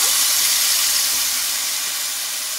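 Water poured into a hot pan of sautéed ash gourd sets off a loud, close, broadband sizzling hiss that holds steady and fades slightly over a couple of seconds.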